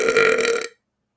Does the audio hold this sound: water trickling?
no